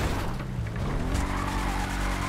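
A car skidding in the video game GTA 5, a sustained tire squeal over a rumbling engine, loud and close, lasting the whole brief moment without talk.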